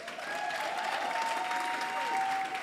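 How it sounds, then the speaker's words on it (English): An audience applauds at a university excellence awards ceremony, a steady, sustained round of clapping from a crowd heard alone, with a faint tonal hum running beneath it. "let's give him a round of applause"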